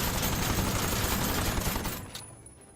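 Gunfire in the video game Aether & Iron, a dense, loud burst of overlapping shots that holds steady for about two seconds before cutting off and tailing away into quiet.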